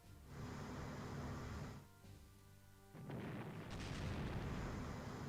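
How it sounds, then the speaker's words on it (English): Battleship gunfire in the Strategic Command naval battle video game, two long rumbling booming bursts separated by a short lull, sounding distant and muffled. "let's try and take out this destroyer here with my battleship"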